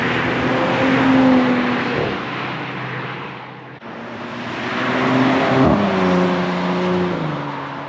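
An Audi SQ5 and a Porsche Macan S drive through road tunnels, their engines droning loudly and echoing, with the revs rising and falling twice as each run builds and then eases off.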